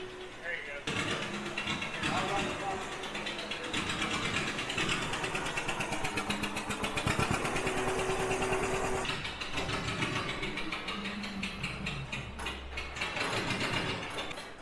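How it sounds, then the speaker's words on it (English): A heavy old tractor engine chugs steadily with a rapid mechanical rhythm and clattering, turning another tractor over by a belt beneath it, loud and continuous. "Spinning these old tractors with a belt is sometimes the quickest way to troubleshoot a problem"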